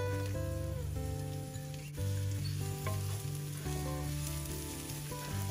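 Onions fry in hot cooking oil, giving a steady, close sizzle that runs continuously under tuneful background music.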